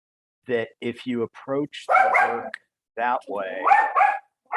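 A dog barks several times in short yips and woofs, loud and close, mixed in with a person talking during a discussion of an anthropology book.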